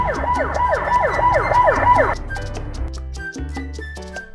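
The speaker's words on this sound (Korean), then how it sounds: "뭔가 사이렌 소리가 들리는데? 뭐지? 오! 오 경찰차" Police car siren in a Roblox game, loud and close, wailing in rapid rising-and-falling sweeps for about two seconds before cutting to steadier tones and short electronic beeps.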